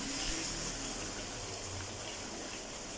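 Water poured into Manchurian sauce in a pan, a steady, soft rushing splash lasting a few seconds, faint and alone.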